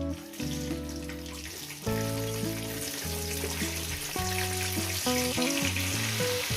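Cauliflower pieces frying in oil after potatoes, a constant bright sizzle up close with some background music tones, no talking.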